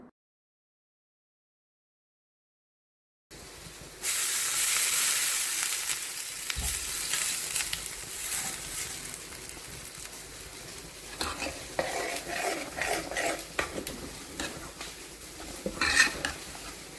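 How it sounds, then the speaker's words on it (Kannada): Dosa batter sizzles on a hot pan, a steady frying hiss that starts abruptly after a few seconds of silence and carries on with occasional scraping and clinks of a utensil, no talk. "ಇವಾಗ ದೋಸೆ ಹಾಕ್ತಾಯಿದ್ದೀನಿ."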